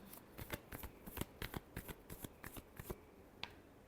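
Tarot cards are shuffled in a close, crisp series of about fifteen rapid riffling snaps, evenly spaced over a few seconds, with one final flick after a brief pause.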